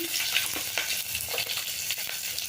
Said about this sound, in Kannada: ಸಾಸಿವೆ ಸಿಗುತ್ತಾ ಇದೆ ಕರಿಬೇವು ಸ್ವಲ್ಪ ಹಿಂಗು ಹಾಕ್ಕೊಳ್ತೀನಿ